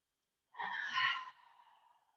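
A single slow exhale during a yoga stretch, breathy and close, swelling over about a second then trailing off softly.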